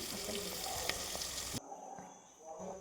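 Finely chopped tomato fries in a pan for biryani, giving a dense, loud sizzle for over a second that then cuts abruptly to a much quieter, softer background hiss.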